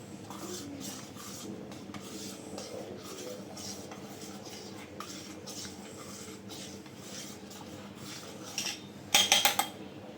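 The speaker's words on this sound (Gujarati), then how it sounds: "થોડુંક નાખતું જવાનું, હલાવતું જવાનું." Stirring melted soap base in a pot during home soap making, soft scraping and clinking of a utensil against metal, quiet and irregular, with a brief brighter clatter near the end.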